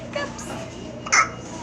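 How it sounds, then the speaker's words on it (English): A baby with hiccups gives a couple of small, high, breathy hiccups close by, one early and a sharper one near the end, amid soft room noise. "That's a cute baby with the hiccups."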